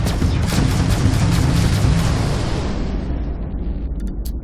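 Ship weapons in Starfield, fitted through a Normandy SR2 mod, fire in space as a broad, loud boom. The blast trails off and fades over several seconds. There is no talking.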